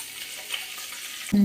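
Chopped garlic sizzles steadily in coconut oil in a pan, a soft continuous frying hiss that ends in a sudden louder burst.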